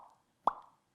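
A single sharp mouth pop, short and close, standing out against near silence.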